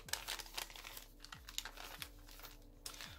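Origami paper being flipped and folded for a Santa crane, with soft crinkling and crisp rustles in short repeated bursts, close and quiet, no talking.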